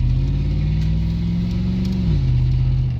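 A 1999 Z71 truck chassis fitted with a squarebody GMC body and a 4L60 automatic transmission drives along. Its steady engine hum drops in pitch as the transmission shifts gears. The sound is loud, close and continuous, with no talk.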